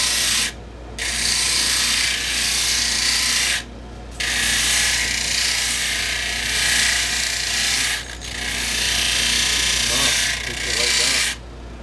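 A rough grit wheel grinds and shapes a tobacco pipe in long, harsh abrasive bursts, broken by three brief pauses where the wheel lifts off, with a low motor hum underneath throughout.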